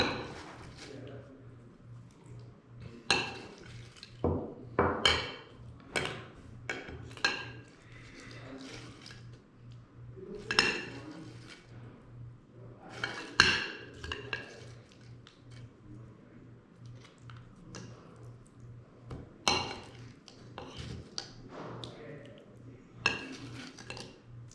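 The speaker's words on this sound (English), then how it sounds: "use the same knife, spoon, to smear 2 tablespoons of jelly on the other slice of bread" A knife or spoon scraping and clinking against a plate or jar while jelly is smeared onto a slice of bread for a peanut butter and jelly sandwich, irregular close taps and scrapes with no talking.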